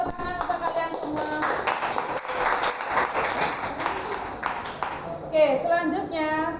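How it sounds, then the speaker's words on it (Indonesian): Students in a classroom clap together after group presentations, a continuous burst of applause mixed with children's voices and chatter, moderately loud throughout. "Oke, tepuk tangan untuk kalian semua."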